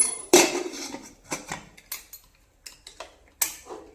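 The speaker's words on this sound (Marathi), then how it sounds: "कुकरला झाकण लावून घेऊ" A pressure cooker lid being closed over jeera rice, heard as a series of sharp metallic clanks and clicks with short pauses between them, close up and with no talking.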